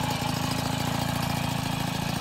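A freshly rebuilt MBK 51 moped engine idles close by with a steady, rapid, pulsing putter that stays even and fairly loud, with no voices.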